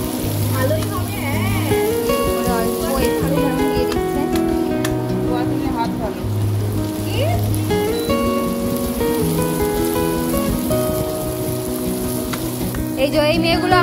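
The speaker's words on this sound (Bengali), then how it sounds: "ভাজা চলছে" Food frying in a pan with oil at a hostel picnic, a continuous close sizzle with soft crackles that runs through the whole stretch while people talk over it.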